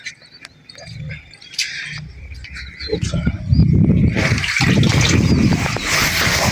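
Water gushes and splashes while a household water tank is washed out, quiet trickles and clinks at first, then a loud sustained rush of spraying water, with birds chirping in the background.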